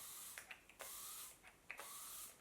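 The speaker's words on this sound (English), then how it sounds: "I think it's got a really nice mister." Makeup setting spray mister, the Urban Decay All Nighter kind, gives three short, fairly loud fine-mist bursts, each a soft airy hiss, with a few small clicks of the pump between them.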